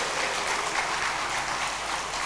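Audience applause at a halal bihalal gathering of PT Perkebunan Nusantara 1 Regional 3, a dense, steady wash of clapping that holds at an even level throughout with no voices over it.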